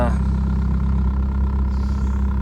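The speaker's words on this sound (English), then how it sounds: "A lot of belt squeal at first, but once that quiets down, the engine's pretty quiet." A 1999 Mitsubishi Eclipse GS Spyder engine running steadily nearby, a low continuous hum with a faint high-pitched belt squeal at the start that quickly fades.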